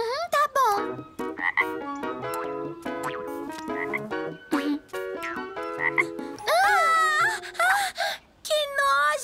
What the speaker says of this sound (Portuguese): Que nojo! É um sapo!